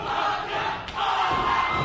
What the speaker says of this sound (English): Listen to this crowd chanting for Wanda.